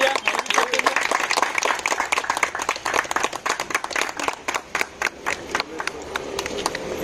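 Audience at a car handover ceremony clapping in loud, uneven bursts, a close, dense round of applause with some voices mixed in, continuing throughout and easing slightly toward the end.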